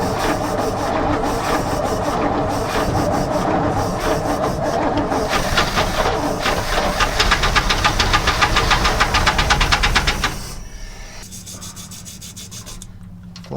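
Engine of a 1965 Chevrolet junkyard truck in poor condition, running rough with a loud, steady knocking chatter that rises in intensity, then abruptly drops to a quieter idle-like rumble near the end.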